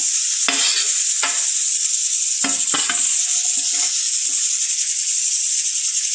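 Steady sizzling hiss fills the clip, with a few scraping stirs of a spoon through fish pieces in a curry pan, close and loud.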